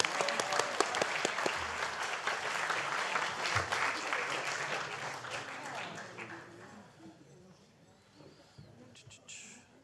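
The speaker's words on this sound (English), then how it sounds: "One more round of applause" A congregation at Friday night Shabbat services breaks into applause, brisk clapping from a room full of people that gradually thins and fades, with voices murmuring and talking through it.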